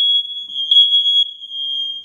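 Interconnected smoke detectors sounding during a test, one loud, continuous shrill alarm tone held steady throughout, close by and without talk.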